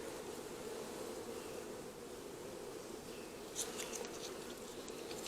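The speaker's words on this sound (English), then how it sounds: "there's a bee on your finger" Honey bees hum steadily at an open hive during an inspection, a continuous close buzz throughout with a few faint clicks near the end.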